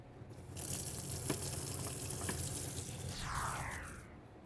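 Tap water runs into a kitchen sink as hands are washed after handling raw tri-tip beef, a steady gushing stream heard close and alone, swelling slightly toward the end.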